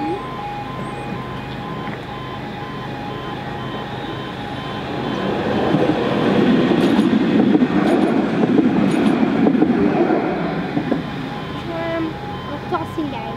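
A Nottingham tram passes on street tracks during a Christmas visit, a broad rumble that swells in the middle and then fades, with voices talking nearby over it.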